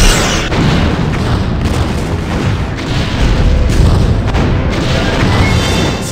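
An enemy starship blows up in the Star Trek Bridge Commander space combat game: a loud, sustained rumbling explosion with deep booming bursts that roll on for several seconds without speech.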